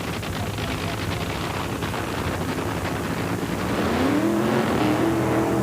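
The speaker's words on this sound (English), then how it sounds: "opponent is Gary Bolger as they start the engine in the Creasy family Tyrant" Nitro drag racing car, the Creasy family Tyrant, running its engine through a burnout at the 1995 NHRA Mile High Nationals: a loud, sustained roar with wind buffeting that swells in pitch and intensity near the end.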